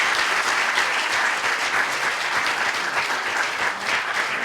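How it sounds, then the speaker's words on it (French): An audience at a talk during a rural festival claps together in dense, steady applause, loud throughout with a slight dip near the end before it carries on. "mais on va s'applaudir quand même."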